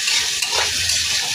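Ivy gourd chutney is stirred with salt in a hot pan, a short burst of hissing sizzle with a soft scrape of the spoon partway through, no voices.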